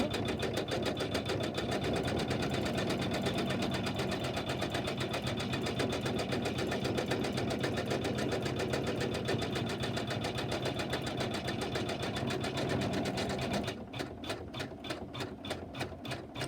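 An embroidery sewing machine stitches satin stitches over foundation stitches on fabric, a steady rapid mechanical chatter that runs continuously and close, shifting to a slightly sparser rhythm near the end.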